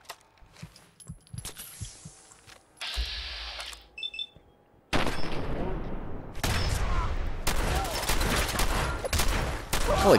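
Gunfire in the video game Fallout 4 builds from scattered shots and electronic beeps into dense, continuous rapid firing and explosions, loud and close.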